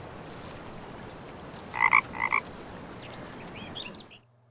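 A frog croaks twice in quick succession in the video game The Night of the Rabbit, loud and clear over a steady ambient background hum, with a fainter chirp shortly after.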